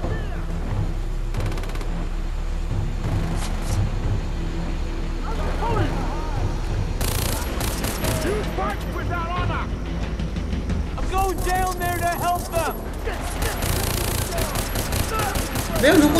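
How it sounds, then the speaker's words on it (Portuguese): Gunfire crackles in Far Cry 3, bursts of automatic shots scattered through the scene, some close and sharp, others further off, over a low rumble with a voice talking through parts of it. "Tem tiro ali na frente."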